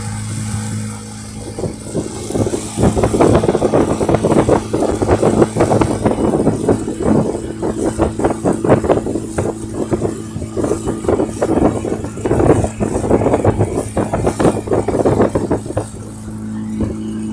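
A boat engine runs steadily during a river safari on the Madu River, near mangroves. It makes a close, continuous mid-pitched drone with a rhythmic throb and rises and dips slightly in strength for about seventeen seconds, with no talking.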